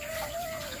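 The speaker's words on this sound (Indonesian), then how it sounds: "Ayam. Ayam." A chicken gives a brief, faint cluck from a short distance against quiet background hiss on a simple rural homestead.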